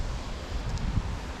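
Gusty wind buffets the microphone outdoors on a windy day at a trailer park lawn, a steady low rumble with faint rustling and no voices.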